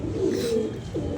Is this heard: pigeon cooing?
yes